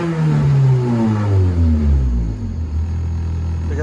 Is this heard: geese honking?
no